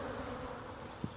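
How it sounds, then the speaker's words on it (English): Angry honey bees swarm up from an opened hive, a dense steady buzz close by with one brief knock near the end. "So all these bees are now up and angry, which is good."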